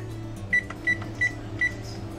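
An oven control panel gives four short, evenly spaced electronic beeps as the preheat is set, clear over a low kitchen hum.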